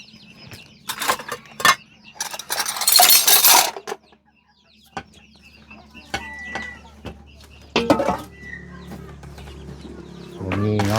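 Chickens cluck and call in bursts around a rural Thai home, with clinking and handling noises, a loud flurry early on and quieter scattered clucks later.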